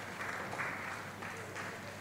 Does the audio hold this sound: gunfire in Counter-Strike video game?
no